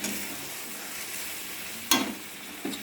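Chicken curry masala being sautéed in a pan, a steady soft sizzle with a sharp scrape of the spoon near the two-second mark and a fainter one just before the end, no voices.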